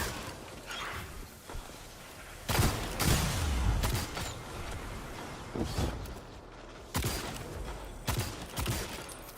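Gunfire in Destiny 2 player-versus-player combat: dense, loud bursts of rapid weapon fire in several volleys, separated by brief lulls and layered over constant game noise.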